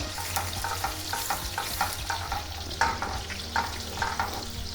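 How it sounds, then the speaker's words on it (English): Butter melts in a hot pan for homemade buffalo wing sauce, a soft continuous sizzle with small popping crackles and a few utensil stirs close by, no speech. "So we're just melting this butter down."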